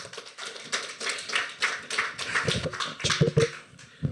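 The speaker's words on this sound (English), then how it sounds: "round of applause" Audience applause at a live-streamed tech conference, a dense wash of many hands clapping steadily for a few seconds with scattered louder claps near the end.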